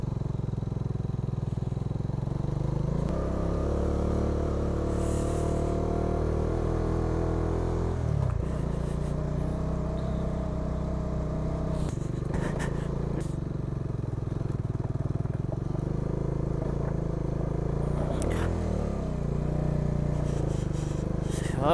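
A motorcycle rides along a rough mountain road, its engine a steady drone that rises and falls with gear changes. Scrapes and clatter break in now and then, and there is little talk.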